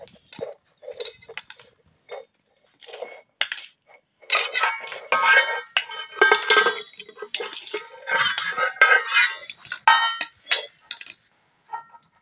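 Metal pots, pans and cutlery clinking and clattering in a home as utensils are gathered and packed, a run of irregular bright clinks building to busier bursts of clatter, fairly close, with no talk over it.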